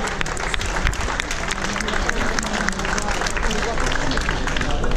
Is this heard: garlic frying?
no